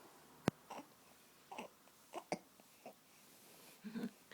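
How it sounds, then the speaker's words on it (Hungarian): A baby hiccups softly, with a series of brief, faint hiccups spaced about half a second to a second apart over quiet room noise, plus a small breathy sound near the end. "hát csuklasz."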